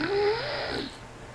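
A person snores in one loud, rasping, throaty inhalation with a rising, whistle-like tone, fading into softer breathy noise.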